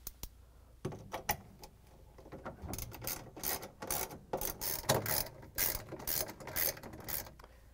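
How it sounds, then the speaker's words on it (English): A ratchet with a 3/8 inch socket and extension tightens bolts on a GE washing machine transmission assembly, giving a close, quiet stream of rapid clicking pawl sounds in uneven bursts. "we're going to use a 3 8 inch socket with the ratchet and the extension to put in the bolts"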